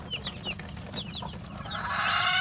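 Broiler chicks peeping while drinking from a waterer, many rapid high chirps overlapping close by, with a rising rustling hiss toward the end.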